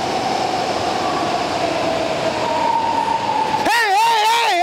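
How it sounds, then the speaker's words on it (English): A BART subway train pulling into Downtown Berkeley station, a loud rumbling rush with a sustained squealing brake tone that turns into wavering high screeches as it slows, with voices faint in the background. "The train's coming."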